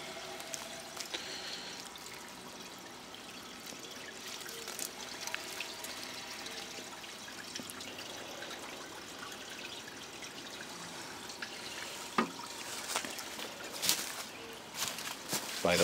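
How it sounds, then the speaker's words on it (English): A 1980 lowboy toilet refills after a flush, water running into the tank and bowl with a steady, fairly quiet trickle and pour that continues throughout, with a few faint knocks near the end. "Now the tank ball seated and the tank will refill just like normal, and so will the bowl"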